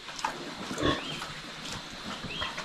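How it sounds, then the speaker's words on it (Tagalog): A pregnant sow on a farm, about three months into gestation, gives brief grunts against a steady rustling farmyard background, with no voices. "sa ating inahing baboy"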